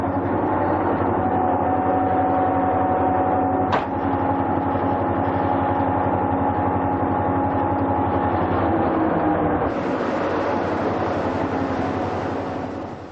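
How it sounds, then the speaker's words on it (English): The California Zephyr diesel passenger train runs toward Moffat Tunnel at East Portal, a loud, steady low engine drone with rail rumble that holds throughout and swells briefly near the end. "Our train straightens out at East Portal for the dash into Moffat Tunnel"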